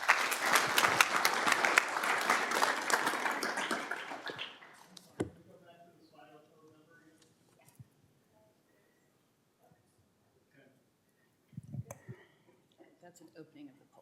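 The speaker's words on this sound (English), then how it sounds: "Please give your hand of applause." An audience at a conference talk on AI systems applauds for about four seconds, dense clapping that stops abruptly, followed by quiet room noise and a few soft knocks and faint voices.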